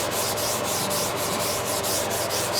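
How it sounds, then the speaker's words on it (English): Light hand sanding along the edge of automotive paint ahead of a clear coat blend, a steady close scratchy rubbing that continues without a break and without voices. "I'm just going to do a light sand on this edge."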